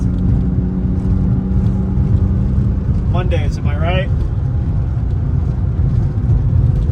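A BMW M3 (E36) engine runs steadily close by under brief talk; midway a quick upward rev and shift sweep through, then the drone resumes.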